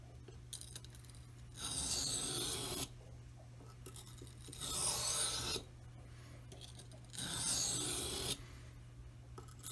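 Knife edge bevel being sharpened on a stone by hand, with three long rasping strokes of steel across the stone separated by quieter pauses, close and steady over a low hum.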